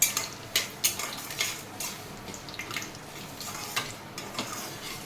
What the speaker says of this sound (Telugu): పోపులు వేగిపోయాయి